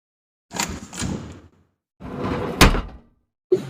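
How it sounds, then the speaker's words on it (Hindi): A door is opened, giving two close, fairly loud bursts of rattling and handling noise separated by a short quiet gap, with a sharper knock or latch click in the second burst and another thud beginning at the very end. "दरवाजा खुल गया"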